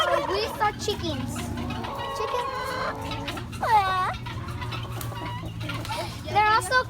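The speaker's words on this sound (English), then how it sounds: "Oh, we saw chickens." Chickens cluck and squawk close by in a farm sanctuary setting, with rising calls and short bursts repeating over several seconds while people talk softly in the background.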